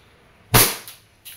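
A DB Pit Viper airsoft pistol fires one sharp, close crack past a chronograph, followed by a fading mechanical rattle and a brief second click.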